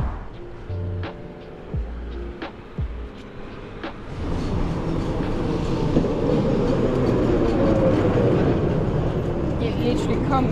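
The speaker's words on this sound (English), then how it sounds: "we're actually going to catch a tram into the city center." A tram arrives in a provincial Russian city. Its rumble and rattle grow quickly and hold steady and close, with rail clatter throughout and people talking near the start.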